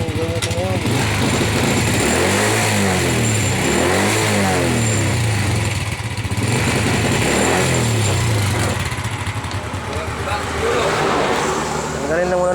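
A Honda Wave 100 motorcycle engine runs rough and sputters, revving in uneven surges up close for the whole stretch, with a voice talking over the noise.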